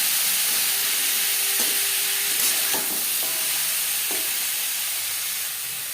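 Sajne data chachchari, a vegetarian drumstick curry, fries in a pan with a steady, close hiss and sizzle. A few faint clinks of stirring sound under the frying.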